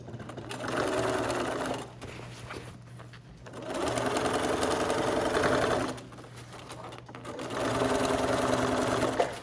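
A sewing machine stitches a backpack strap seam in three close, steady bursts of whirring, each separated by a short pause.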